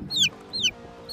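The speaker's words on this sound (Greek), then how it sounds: "Είναι μια κότα." A hen clucks close by in three short, sharp bursts, the last cut off at the end, over faint background room noise with no talking.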